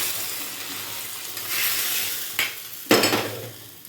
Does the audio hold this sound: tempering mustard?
yes